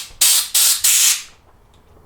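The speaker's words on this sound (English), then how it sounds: "Never spray on your canvas first, always use an old piece. I'm just going to take a shot." Air spray gun test-spraying Lizard Skin insulation paint onto an old scrap piece: three close, loud hissing bursts of about a third of a second each, separated by short gaps, then quiet.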